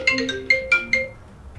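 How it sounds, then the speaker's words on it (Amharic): A mobile phone ringtone from an unknown caller, a bright melodic pattern of short tones repeating quickly, close and clear, alone with no voices. "በዚህ ሰዓት የማላውቀው ስልክ ደግሞ ማን ነው?"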